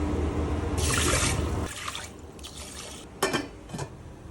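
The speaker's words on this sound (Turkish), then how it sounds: "Bir buçuk kapta şu an su koyacağım." Water poured into a pot of rice for sushi, a steady splashing stream for about a second, then softer trickles and a few short pours and drips, close and fairly quiet.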